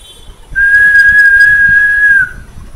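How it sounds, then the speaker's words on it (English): A person whistles with the lips, holding one steady, clear tone for nearly two seconds, loud and close, with faint low background rumble and no speech. "So that's gonna make a whistle sound."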